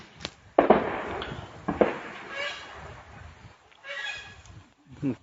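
Artillery shelling near the Thai-Cambodian border sounds as several sharp, booming blasts spaced a second or so apart. Roosters crow and faint voices carry between the blasts.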